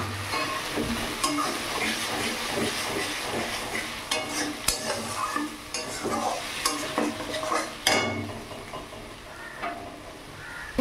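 Cumin, ginger, chili and tomato pastes fry with browned onions for a Bengali bhetki fish curry, a steady close sizzle broken by repeated spoon scrapes and clinks against the pan.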